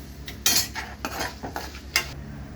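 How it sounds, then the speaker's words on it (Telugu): Sesame seeds dry-roasting in a pan with no oil, stirred with a utensil that gives several sharp scraping and tapping strokes over a soft, steady crackle, close and fairly loud, with no voices. "నువ్వులు పొడిగా వేపాలి, ఆయిల్ వేయకూడదు."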